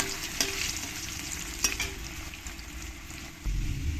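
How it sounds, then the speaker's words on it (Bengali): Potatoes frying in oil with salt and turmeric give a steady, soft sizzle with occasional stirring scrapes. The sizzle grows louder and fuller near the end. "আর আলুগুলোকে ভালো করে একটু লাল লাল করে ভেজে নিতে হবে"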